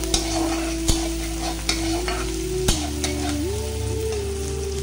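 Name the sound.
onions frying and being stirred in a pan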